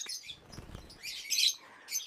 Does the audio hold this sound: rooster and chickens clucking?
no